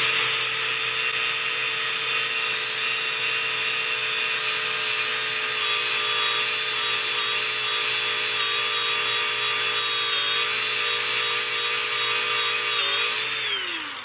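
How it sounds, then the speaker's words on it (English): A high-pitched power tool, a Dremel-type grinder, sands an aluminum patch on the crankcase of a Yamaha YDS3C motorcycle, whining steadily and loudly for about thirteen seconds before its pitch drops as it spins down. "Aluminum doesn't sand worth a shit."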